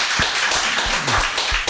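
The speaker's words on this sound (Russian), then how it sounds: "Давайте мы похлопаем экипу болгарского христианского телевидения." A church audience claps for a Bulgarian Christian TV crew, with dense, steady applause and a few sharper individual claps standing out.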